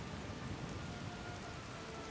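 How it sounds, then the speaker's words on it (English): Steady rain pours down in the open-world fantasy game Skyrim near Riverwood, a dense, even hiss of falling drops and surface patter that fills the whole stretch without breaks or voices. "Rain!"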